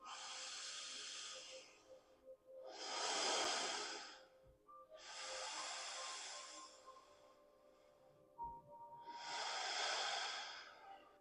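Slow, deep yoga breaths, about four long airy inhales and exhales in an even rhythm, close and fairly quiet with soft pauses between them.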